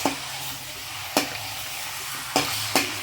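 Onions sizzling steadily in a hot pan, with a few sharp scrapes of a spatula stirring them at irregular intervals.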